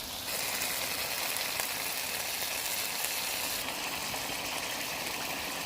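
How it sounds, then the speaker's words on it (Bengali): Boiled small potatoes, already fried, sizzle steadily as they cook down with spices in a pan, making a continuous close hiss with faint crackles and no voices. "মশলার সাথে আলুগুলো ভালো করে কষিয়ে নিচ্ছি।"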